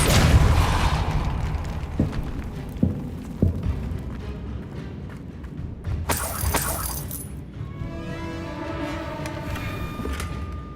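Depulsor spell impact in Hogwarts Legacy: several sharp bursts and crashes with shattering debris, a booming hit, then ringing tonal magic tails, loud and close with no speech.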